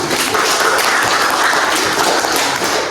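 A class of students claps together in a dense, steady burst of applause lasting a few seconds, loud and close, with no talking over it.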